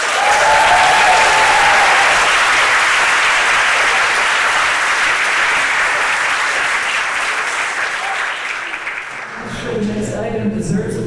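Sustained, loud applause from a library lecture audience greeting a speaker, a dense wash of clapping that fades near the end as a voice begins to speak.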